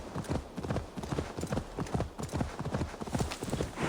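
Rhythmic clip-clop of horse hooves as a horse is ridden at a brisk pace in a video game, close and steady, with a voice briefly over the hoofbeats.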